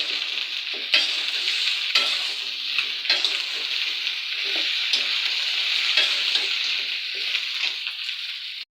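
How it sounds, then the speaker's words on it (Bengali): Potato pieces and chicken meat frying in a pan, giving a steady, close sizzle with stirring scrapes every second or so and no talking. "এই যে আমার আলু আর গুস্ত দেখেন ভাজা ভাজা হয়ে গেছে, লাল হয়ে গেছে"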